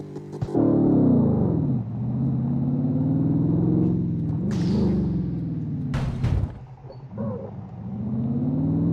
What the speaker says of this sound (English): It's like somebody's sitting here in my car, or next to my car, just throttling